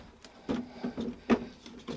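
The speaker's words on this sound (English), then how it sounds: "The drawer operates." A wooden drawer on a 1963 Bambi camper trailer slides and bumps several times in quick succession, with soft scraping and knocks close by, fairly quiet.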